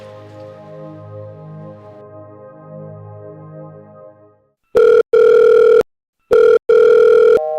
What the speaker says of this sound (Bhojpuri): हम फोन कर अभी पूछा तनी ओकरा से